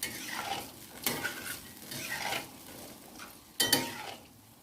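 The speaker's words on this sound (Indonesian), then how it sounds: "Nah, kita aduk-aduk, kita biarkan dulu mendidih." A spoon scrapes and knocks around inside a pot of boiling tempeh stew in a few irregular strokes, with a soft bubbling simmer underneath and a sharper clank near the end.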